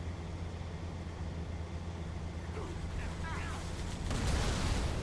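A tank cannon fires in the video game Halo 3, a sudden loud, broad boom bursting over rumbling game noise near the end.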